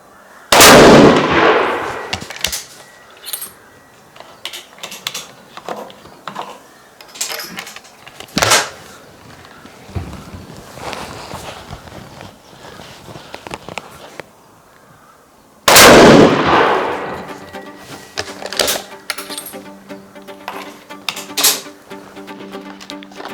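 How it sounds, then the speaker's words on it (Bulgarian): Three loud rifle shots from a Fabarm combination gun chambered in 8x57 JRS, fired one at a time with long pauses between them, each a sharp blast with a ringing tail, and handling clatter in the gaps. "Ще направим група от 3 изстрела, за да видим как стреля оръжието"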